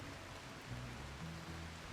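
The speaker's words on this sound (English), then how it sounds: "although it's raining now" Steady rainfall in the colony-building game Rimworld, a soft, even hiss of falling rain with faint low tones underneath, quiet and continuous.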